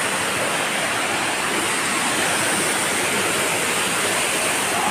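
Roar of a waterfall near a village in Naugarh, a dense, steady rushing wash that stays loud and unbroken throughout, with no voices.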